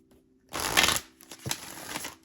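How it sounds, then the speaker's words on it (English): A deck of tarot cards being shuffled close by, a burst of riffling followed by a second shorter run, with no voices. "I think that's a good enough shuffle."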